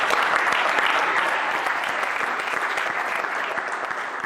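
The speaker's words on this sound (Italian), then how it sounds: "un applauso alla pesistica" Crowd applause honoring a weightlifting team at a sports gathering, loud and dense clapping with sharp individual claps standing out near the front, easing off slightly as it continues.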